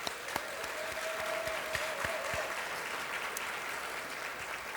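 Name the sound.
audience applause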